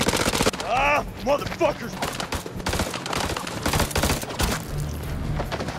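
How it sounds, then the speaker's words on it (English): Rapid gunfire in the video game House of Ashes, bursts of automatic shots crackling loudly and continuously over several seconds, with someone shouting and swearing over the shooting. "Now they getting shot up."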